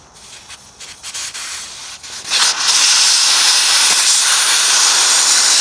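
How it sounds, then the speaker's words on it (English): An air compressor hisses during a front tire change, starting with a few scattered rubbing clicks and then building into a loud, continuous, close airy rush that holds steady to the end. "I'm gonna go ahead and plug the compressor up"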